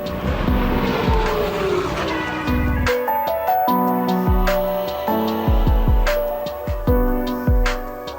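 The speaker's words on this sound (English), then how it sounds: "Twin engine rotary Volvo wagon." A twin-engine rotary Volvo wagon race car at a World Time Attack Challenge event in Sydney, its engine revving hard through a series of sharp rises and gear changes, loud and close with a staccato, popping rhythm.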